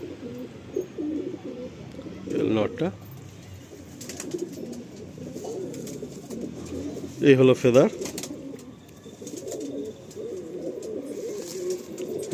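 Madrasi pigeons kept as a loft line, heard with soft intermittent cooing, a couple of clearer bursts standing out, while someone talks over them close by.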